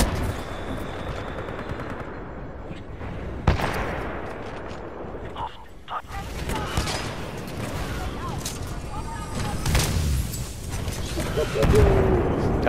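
Kraber sniper rifle shots ring out in a Titanfall 2 multiplayer match, sharp single blasts separated by pauses among other gunfire and explosions, while players chat over the action.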